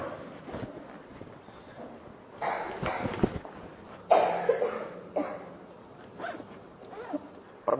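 Several sharp coughs in irregular bursts from a woman during a church sermon, fairly close, with rustling and a bit of throat noise between them.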